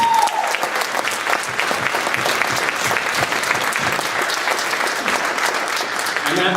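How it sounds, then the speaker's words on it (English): Sustained applause from a school band concert audience cheering for student performers, dense and steady throughout with scattered whoops, a brief tone at the start. "So give it up for all the students."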